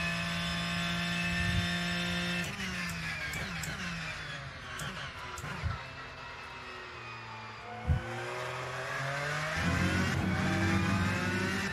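A Porsche race car engine revs and shifts through gears in the Rennsport racing video game, a loud sustained mechanical whine with gear changes and pitch sweeps, alone with no talk.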